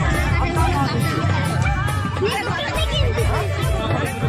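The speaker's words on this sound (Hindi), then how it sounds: "हम लोग का पुट्टो मेला जबरदस्त भीड़ में है" Dense crowd chatter fills a busy Putto fair (Puto Mela), many overlapping voices forming a steady, loud babble close around with no single speaker standing out.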